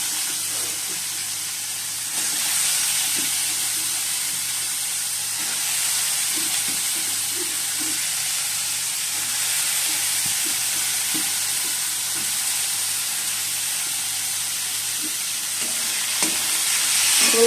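Diced potatoes fry in a wok, giving a continuous close hiss and sizzle with soft scraping stirs throughout, no voices over it.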